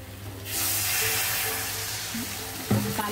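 Water poured into a hot pan of potatoes fried with masala sets off a loud, sudden hissing sizzle that stays steady and slowly eases, with a clink of a utensil near the end.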